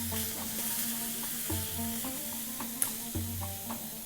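Pearl onions sizzle in olive oil in a pan, a continuous close frying crackle with light stirring scrapes and small pops throughout, with no voices.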